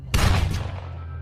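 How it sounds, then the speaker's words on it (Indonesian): A single loud gunshot from a film scene, a close blast with a rumbling low tail that decays over about a second, with no talk. "Sehingga, Frank yang tidak punya banyak waktu pun langsung menembaknya tepat di kepala."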